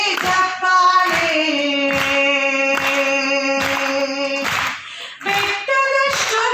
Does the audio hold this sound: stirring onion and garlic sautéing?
no